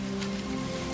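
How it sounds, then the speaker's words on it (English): Rain pours steadily as a dense patter on surfaces in the 1994 film The Crow, with a low tonal drone running beneath it throughout. "I wish the rain would stop just once. Can't rain all the time."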